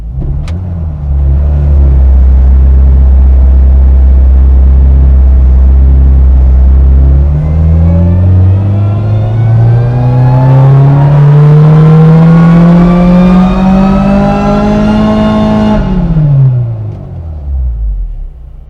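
The supercharged engine of an 8th-generation Honda Civic Si roars on a dyno, starting at a deep steady idle, then climbing in pitch through a long, loud rev before falling off sharply at the end.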